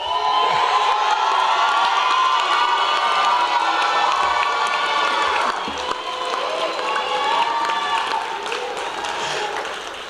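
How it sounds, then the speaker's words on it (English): A large crowd at a high school graduation ceremony cheers, whoops and claps loudly and steadily, the roar easing slightly toward the end. "give them a round of applause"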